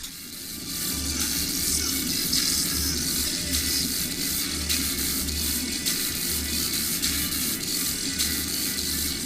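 A cheap motorcycle headset speaker turned to maximum volume and caught by a GoPro microphone gives a steady, harsh, hissy wash with a low pulsing throb underneath, constant and unbroken throughout.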